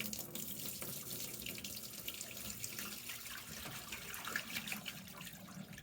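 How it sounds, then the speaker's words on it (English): Nutrient water from a hydroponic lettuce downspout drains into a sink in a steady, close, continuous splashing gush that runs for the whole stretch without letting up. "remove the water cap, take the downspout to a sink or tub,"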